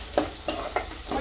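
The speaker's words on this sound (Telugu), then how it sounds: "కొంచెం ఫ్రై అవ్వాలన్నమాట" Small, thinly sliced onions frying in a pan for green chicken give a soft, faint sizzle, with four light stirring scrapes spaced evenly over a brief moment.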